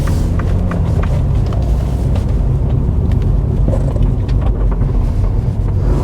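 A manual car slows almost to a stop in first gear and turns into a junction, heard from inside as a steady, loud engine and road rumble with some wind buffeting and no talk.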